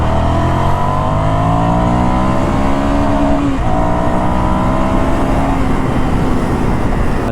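A Ducati Scrambler Icon motorcycle accelerating hard to overtake, its engine note climbing through the revs, dropping briefly at a gear change, then rising again, heard close from the rider's position with wind noise.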